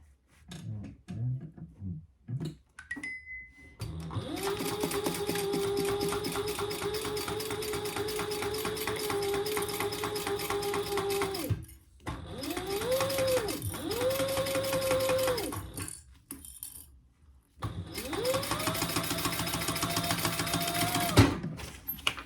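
A sewing machine runs in three long bursts, top stitching a crossbody bag; each burst whirs steadily at a sustained hum, separated by short pauses with small handling clicks, no talking.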